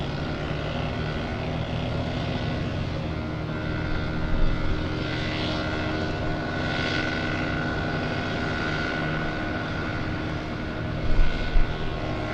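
A Southwest airliner taxis at LAX, its jet engines a steady, distant roar with broadband whine that holds for the whole stretch, with small bumps in level near the end.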